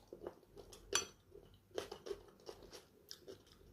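Crunchy bites and chewing of a cucumber and avocado salad dressed with sesame and sea salt, close and quiet, with irregular crisp crunches and a faint clink of a utensil.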